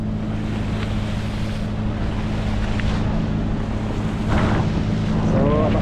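Small outrigger boat motoring out to sea in light wind, a steady low engine drone beneath wind buffeting and splashing water, continuous throughout with a slight swell near the end.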